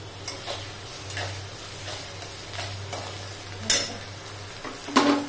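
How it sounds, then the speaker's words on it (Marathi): Green chillies stir-fried with a little salt in a pan for Solapuri mirchu, a soft continuous sizzle broken by scraping spatula strokes and a few sharper metallic clinks. "मस्त अशा आपल्या परतवून झालेल्या आहे मिरच्या"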